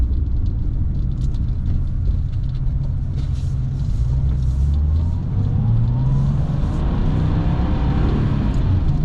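A red 1996 Porsche 911 Carrera engine pulls steadily under acceleration while driving, a loud continuous low rumble rising and shifting in pitch through the gears, with no talking.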